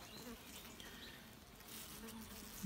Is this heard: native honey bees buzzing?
yes